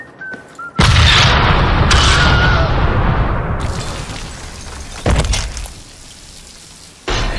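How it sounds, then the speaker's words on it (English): A C4 charge detonates in a Deadpool video game: a loud, close boom bursts out and rumbles on for several seconds, followed by two more heavy blasts, with no talk over it. "That's what happens when you mix C4 with a bean burrito."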